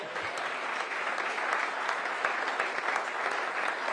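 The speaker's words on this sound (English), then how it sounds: "So I think that deserves a round of applause." A press-conference crowd applauds a new university head football coach, steady dense clapping filling the room at an even level throughout, with no talk over it.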